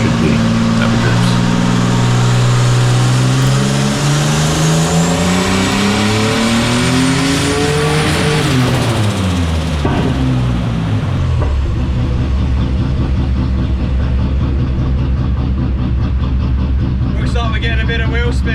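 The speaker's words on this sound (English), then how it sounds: "Looks like we're getting a bit of wheel spin." A car engine revs hard on a dyno, rising pitch climbing through gears then a sudden drop as the wheels spin, loud and close, followed by steady high-revving drone and rattling.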